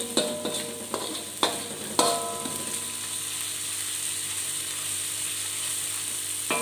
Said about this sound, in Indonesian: Next, masukin cabai. Sama kita oseng aja jangan sampai hangus.